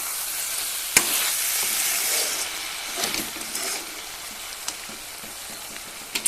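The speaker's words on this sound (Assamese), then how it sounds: "মাছখিনি দিয়াৰ পিছত মই ভালকৈ এইখিনি আকৌ লৰাই দিম" Fish pieces being stirred in a hot pan for a curry, a steady sizzle of frying with scraping and clinking of the spatula at intervals, close up and with no voices.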